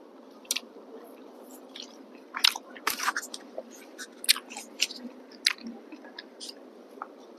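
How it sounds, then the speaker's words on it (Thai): Close, moist chewing and crunchy bites of Isan-style papaya soup, a Thai country dish, with squishy mouth sounds and intermittent sharp crunches over a steady low background hum, no speech. "มากินซุปบักเขียพี่น้องนะ"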